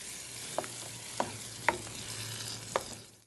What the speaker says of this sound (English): we're going to take our pureed San Marzano tomatoes and we're going to add that right to the pan. We're going to give it a quick stir.